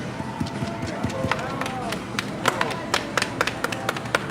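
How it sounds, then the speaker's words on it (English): An audience at an immigration event gives a speaker a round of applause: sparse, sharp individual claps scattered over a few seconds while a voice talks over them. "I ask for you to give him a round of applause as well"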